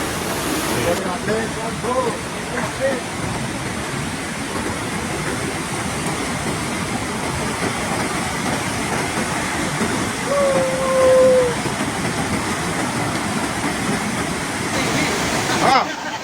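A flooded river overflowing near a bridge in Banyuwangi roars as a loud, steady rush of churning water, with people talking faintly beneath it.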